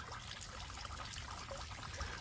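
Water trickles back through the pipe of a homemade pond filtration system with a steady, quiet dribbling and gurgling flow.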